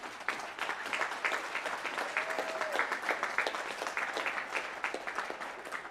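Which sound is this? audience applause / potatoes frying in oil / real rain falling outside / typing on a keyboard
audience applause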